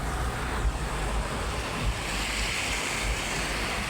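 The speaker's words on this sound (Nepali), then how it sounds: "पानी धेरै ठुलो परिरहेछ, भलबाडी बगिसक्यो।" Heavy rain pours down during a storm with flash flooding, heard from a vehicle parked at the roadside as a dense, steady roar with gusty wind buffeting the microphone and no talking.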